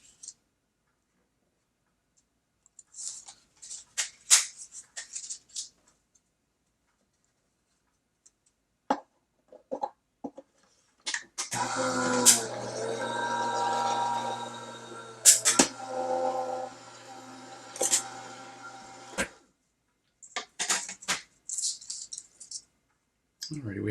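A die cutting machine crunches wheat and chocolate cardstock, a steady broadband mechanical grind running for several seconds in the middle, bracketed by scattered clicks and handling taps before and after.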